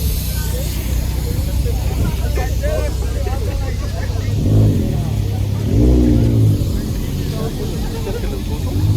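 A Lamborghini sports car engine revs and roars nearby, rising in bursts over steady engine rumble, with people talking over it.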